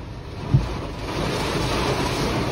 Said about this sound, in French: Oh, les rafales de vent.